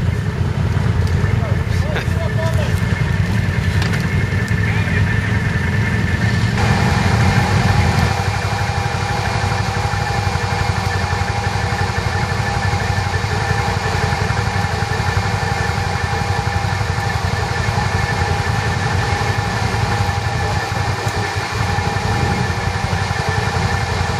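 A motorcycle engine idles steadily at an ATV gathering, its even, close hum running unbroken for the whole stretch while people talk in the background.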